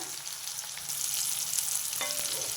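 Bitter gourd pieces fry in a pan with a steady, close hiss and crackle of oil, faint stirring scrapes showing up now and then, no voices.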